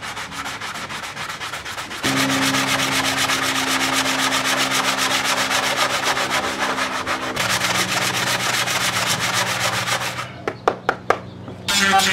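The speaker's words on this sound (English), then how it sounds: "I've got to sand this down a bit, flatten that out." Bondo filler on a motorcycle seat pan mold for a GS550 cafe racer is hand sanded in long, steady rasping strokes, close and loud, with a few sharp taps near the end.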